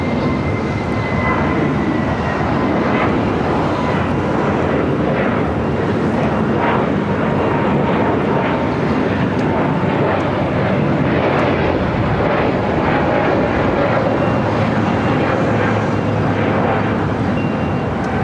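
A Boeing 777-300ER airliner arriving from Tokyo Haneda on approach to a runway at Los Angeles International Airport, a loud, steady jet engine roar that holds throughout with no voices.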